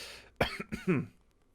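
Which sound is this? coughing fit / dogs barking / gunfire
coughing fit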